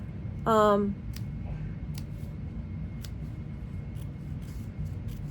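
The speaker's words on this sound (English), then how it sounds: "So you're just going to cut out just a little bit above the hole" Scissors snipping through fabric to open a zipper overlay window on a bag, a series of sparse crisp cuts spaced irregularly, with a brief voiced sound near the start.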